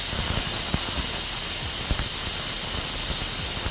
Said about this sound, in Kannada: ನೆಕ್ಸ್ಟ್ ಮಂಗಳೂರು ಸೌತೆನೂ ಹಾಕಿದ್ಮೇಲೆ ಇನ್ನೂ ಒಂದು ವಿಷಲ್ ಕೂಗಿಸ್ಕೊಳ್ಳಿ